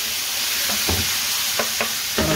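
Tomatoes stirred and cooked in a frying pan for a chana masala, a steady sizzle with a few distinct spoon scrapes spaced across the short stretch, close and moderately loud, no voices.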